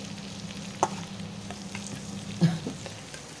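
Mustard seeds, sesame and curry leaves temper in hot oil with a soft, low sizzle, broken by a couple of sharp stirring clinks against the pan.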